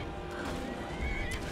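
A horse in the Skyrim video game lets out a short, loud neigh over a busy game soundscape, with hoof clip-clops mixed in.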